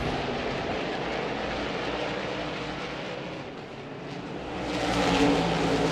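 SMART Modified Tour race cars run at Franklin County Speedway in a dense, continuous engine roar that dips slightly and then builds again as the pack passes, with no talk.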